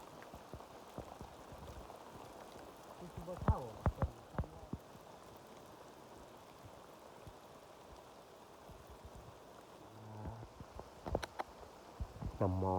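Morning rain pattering on a farm field under fog, a soft steady hiss of drops with a few louder close taps and knocks scattered through, fairly quiet overall.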